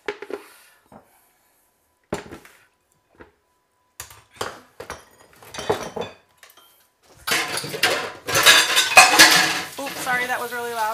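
Dishes, pots and cutlery clatter loudly while a home cook cleans up a pile of used kitchenware during holiday cookie baking, starting as scattered clinks and knocks, then building into a dense, continuous clanging and scraping near the end.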